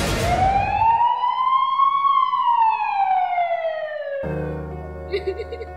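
Ambulance siren wailing loudly and close, one long rising-then-falling sweep before other tones and traffic sounds cut in near the end.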